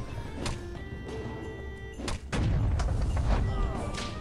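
Booze bottles thrown and bursting in the Holy TD tower defense game, several sharp cracking hits followed by a heavy sustained rumble of explosions, loud and close.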